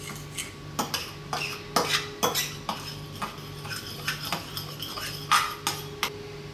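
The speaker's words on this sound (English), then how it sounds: "Grab your fork and mix it." A fork mixes a no-cook pizza sauce in a bowl, giving a rapid series of close metallic clinks and taps against the dish in an uneven rhythm, with no talking.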